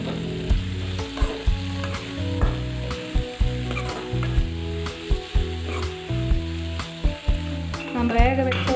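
Onions and tomatoes for pav bhaji sizzle steadily in a hot pan, with regular scraping and stirring strokes punctuating the frying hiss, close up.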